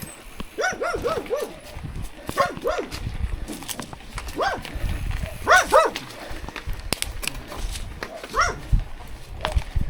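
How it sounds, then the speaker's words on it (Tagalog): A dog barks in repeated clusters of sharp, fairly close barks with brief pauses between them, over light background noise outdoors. "Huwag kayong dumikit sa aso."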